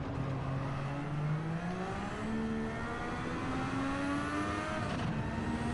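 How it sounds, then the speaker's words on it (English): In a driving video game, a car engine revs high through its gears, pitch climbing and dropping with each shift and briefly pushing toward the redline, a continuous steady whine with no talk over it. "we redlined it a little bit there, so that'll slow us up"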